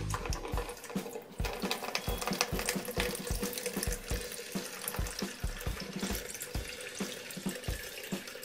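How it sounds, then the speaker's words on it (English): Water pours steadily from a tap into an empty container for a liquid level monitoring setup, a continuous splashing flow with irregular gurgling pulses, close and fairly loud throughout, with no voices. "let's fill some water in a container."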